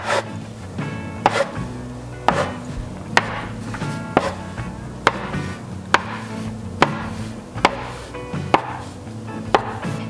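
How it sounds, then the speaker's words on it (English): Knife chopping gnocchi dough into roughly one-inch pieces on a board, a steady series of sharp close taps and thuds, about a dozen cuts with short gaps, no talking. "now we're gonna cut in about 1 inch"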